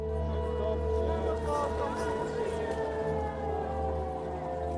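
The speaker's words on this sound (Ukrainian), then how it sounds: "Я пам'ятаю першу тривогу, яку ми почули в Києві" An air raid alert siren wails over Kyiv during wartime, a steady, sustained tone holding at a loud level throughout, with faint voices underneath.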